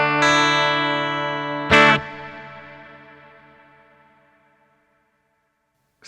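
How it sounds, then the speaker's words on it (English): Two guitar chords ring through a LEKATO Tank G multi-effect set to a sparkle reverb, bright and shimmering, each one struck and then left to decay slowly into a long, fading tail with no talking. "A very nice, kind of like a sparkle reverb, or one of those really nice reverbs that just keeps on going."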